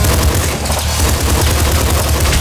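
Rapid, continuous SMG fire in the game Nuclear Throne, a dense, loud stream of shots with heavy low-end punch filling the whole stretch without a break.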